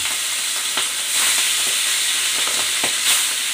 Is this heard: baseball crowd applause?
no